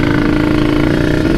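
A Kawasaki Ninja RR two-stroke engine fitted with an open air filter and a racing coil runs loud and steady, its dense buzzing drone holding constant throughout with no voices over it.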